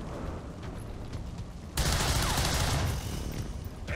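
Gunfire in XCOM 2, a sudden loud burst of rapid shots kicking in after low background noise and lasting about a second before fading into a rumbling tail.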